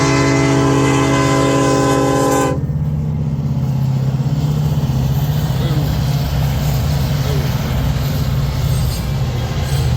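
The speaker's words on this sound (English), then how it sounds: "another eastbound loaded coal drag" A loaded eastbound coal freight train, a long drag with a rear DPU, rolls past close by in a loud, continuous rumble of wheels and cars, following a brief tonal horn-like blast at the start.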